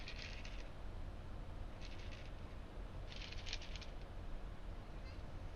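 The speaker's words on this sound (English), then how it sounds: "That was a cat." A cat meows three short times, faint and a little distant, over a steady low rumble that fills the background.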